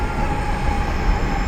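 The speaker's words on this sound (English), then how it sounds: "And there is the train coming." A train pulls into a station in Saudi Arabia with a steady, heavy rumble and rolling wheel noise. It is close and continuous, with no talk over it.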